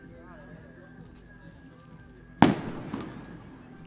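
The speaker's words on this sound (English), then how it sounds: "And some fireworks to celebrate that boundary." A single loud firework bang bursts at a cricket ground to celebrate a boundary in a T20 inter-club match, followed by a few fainter crackles and echoes, while a commentator talks.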